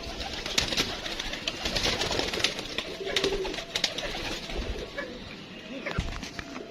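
Large Sialkoti pigeons coo close by in a steady, busy bird-filled soundscape, with a voice speaking briefly over the calls.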